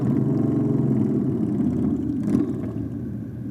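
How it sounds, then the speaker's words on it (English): A motorcycle does a burnout at Sydney Dragway during a bike night to warm its tyres, producing a loud, sustained engine roar heard from the track side, swelling briefly near the end before easing off. "Nice little burn there from the Aeroflow lane to warm up the tyres"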